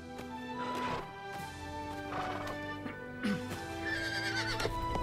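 Horses neigh and whinny repeatedly at close range as they set off, with shrill, drawn-out calls over a rumble of hooves and movement, in a historical drama.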